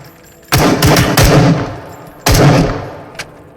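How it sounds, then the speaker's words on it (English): Steyr AUG, an Austrian bullpup assault rifle, fires in the Into The Radius VR game: a loud burst of several rapid shots, a pause, then another sharp shot with echoing tail and a faint click after. "Next we have the Steer AUG, an Austrian bullpup assault rifle known for futuristic design."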